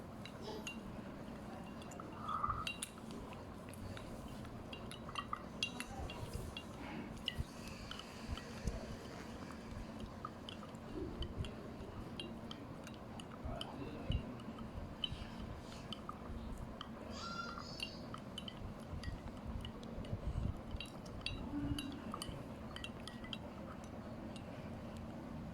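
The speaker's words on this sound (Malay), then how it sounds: "Kita akan kacau serentak selama 1 minit" Spoons stir sugar into glasses of water, some cold, in a primary-school science experiment on dissolving, giving faint, scattered clinks and light swirling of liquid over a quiet room hum.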